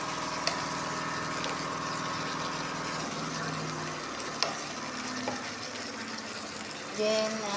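Garlic frying in a pan with occasional stirring, a steady sizzle running throughout at moderate level, a few clinks of a utensil, and brief faint voice near the end.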